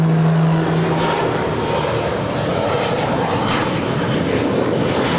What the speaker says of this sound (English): That is Aeromexico Flight 644 coming in from Mexico City. That is a 787-8 Dreamliner.